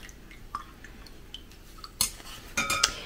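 Wool dye and water are stirred in a container, making a few soft clinks and scrapes of a utensil at close range, then a cluster of brighter metallic taps near the end.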